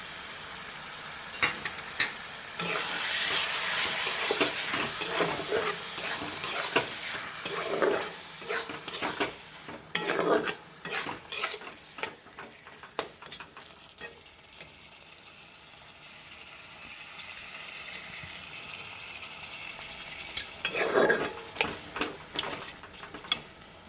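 Mutton with yogurt being stir-fried in a pan, with bursts of sizzling and frying alternating with scraping and clinking of a spoon against the pot, close and fairly loud, with quieter pauses between stirs.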